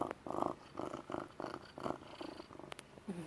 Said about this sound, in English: You just stare at me and purr.